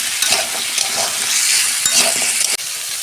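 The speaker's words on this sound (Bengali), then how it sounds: "আগে এই সবজিগুলো আমি ভেজে নিই" Mixed winter vegetables for a veg biryani frying in a pan, a loud, dense sizzle close up with spatula scrapes and stirring knocks, one brief sharp break near the end and no voices.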